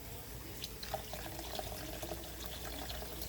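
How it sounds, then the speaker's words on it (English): Water pours steadily and continuously into a cooking pot nearby, a dense splashing rush with no pauses or speech. "So I'm going to add some more water."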